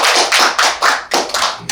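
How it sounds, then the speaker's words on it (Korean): An audience at a public diplomacy seminar applauds three presenters from Korean community associations, a loud, close burst of clapping that swells in regular rhythmic pulses. "이렇게 발표를 해주신 세 분께 다시 한번 먼저 박수를 부탁드리겠습니다"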